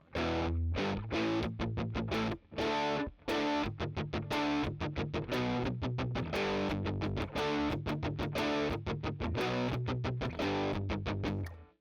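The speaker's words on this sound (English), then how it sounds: "A good mix of distortion, but still very clear, like string noise, note separate." Heavily distorted electric guitar through an Amplitube amp simulator plays a busy run of chugging chords and single notes, loud and close, with brief pauses between phrases.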